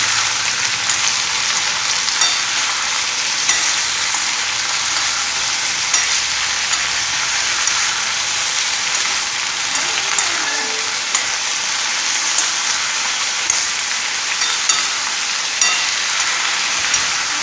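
Brinjal pieces being stirred in oil in a pan for kathirikai poriyal, a loud, even, rain-like sizzle throughout, with faint occasional scrapes of stirring beneath it.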